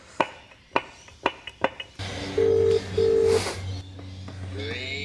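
A phone call is placed from a garage workshop: a few sharp knocks first, then a steady dial hum with two long ringback tones, clear and close on the line.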